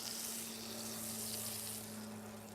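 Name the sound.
eggs frying in butter in a pan on small stove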